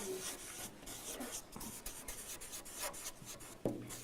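A pen scratches across paper in quiet, continuous strokes, soft and close, with a brief knock near the end and no talk.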